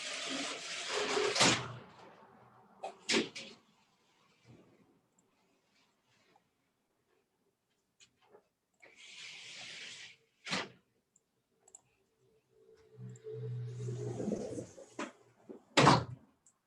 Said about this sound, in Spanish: Déjenme cerrar un poquito aquí esta puerta para ver si puedo hablar con más tranquilidad.